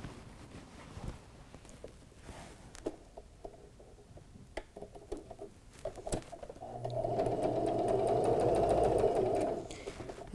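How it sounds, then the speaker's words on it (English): A sewing machine stitching quarter-inch seams on a first aid pouch, running in a steady buzzing whir for about three seconds after a stretch of quiet handling clicks and rustles, close and clear without talk. "I'll do these two first and sew them on the machine."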